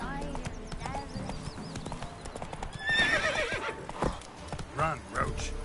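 Hoofbeats of Roach, Geralt's horse, galloping in The Witcher 3: Wild Hunt, a steady clip-clop with whinnies and neighs partway through, set against busy game sounds and a voice talking over it.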